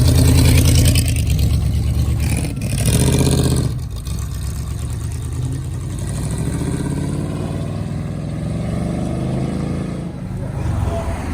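A deep, rumbling engine of a 1950s Ford revving and idling close by, loud and throaty throughout, with a voice briefly talking over it.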